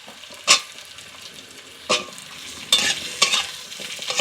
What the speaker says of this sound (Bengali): কুমড়ো আলু একটু ভালো করে ভেজে নেব।